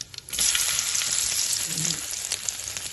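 Five or six crushed garlic cloves hit hot oil in a pan and burst into a loud, steady sizzle right after a brief quiet opening, crackling close up until the end.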